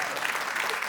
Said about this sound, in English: so can everybody clap their hands